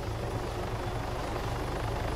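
A helicopter's rotor in the video game Arma 3 Altis Life thumps in a rapid, steady beat under a loud engine whine, close and continuous.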